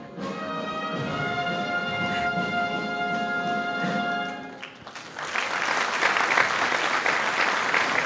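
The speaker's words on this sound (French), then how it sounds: "Et des applaudissements, bien sûr." Sustained musical tones play inside a church during a Saint Barbara's Day mass, then the congregation breaks into loud, steady applause that carries on for several seconds.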